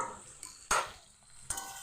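Potatoes frying in a pan give a steady low sizzle, broken by two sharp scraping clatters of a utensil turning them, near and moderately loud.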